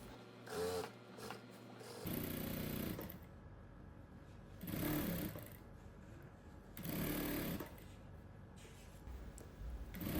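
A sewing machine runs in several sustained bursts with pauses between, stitching along a ribbon edge through lining on a Kazakh patchwork quilt, steady mechanical whirring close by with no voices.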